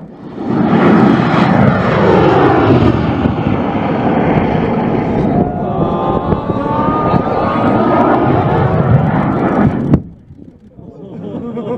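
Loud, close roar of a 3D printed rocket engine firing on a test flight launch, a sustained rushing blast that shifts in tone midway and cuts off sharply near the end.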